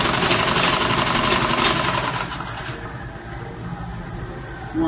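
A sewing machine stitches an A-line long skirt of Ankara fabric with a steady, close mechanical whir that runs loud for a few seconds, then drops to a quieter hum.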